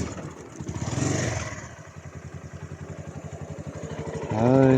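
A motorcycle bounces over a rough, old off-road track, its engine thumping in a fast pulsing beat that swells and eases, with a voice briefly calling out near the end.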